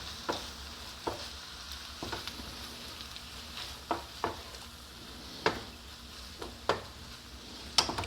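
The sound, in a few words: sausage with juice and fat being stirred in hot pan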